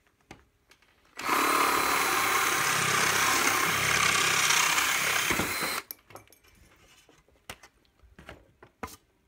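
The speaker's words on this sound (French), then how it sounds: "pour enlever une cheville molly, vous prenez une mèche métal" A power drill fitted with a metal bit runs at high speed for about four and a half seconds, grinding out a molly anchor in plasterboard, then stops, followed by scattered clicks and handling knocks.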